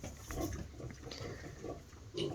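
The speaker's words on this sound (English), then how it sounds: "there's 10 pigs in here" Ten weaning pigs crowded in a pen around a small weaning feeder, grunting and oinking in soft, scattered bursts at moderate distance, with no talk over them.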